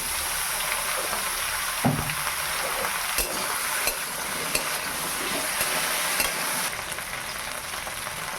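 Okra and browned onions fry in hot mustard oil with a loud, dense, steady sizzle, joined by a few utensil knocks and scrapes.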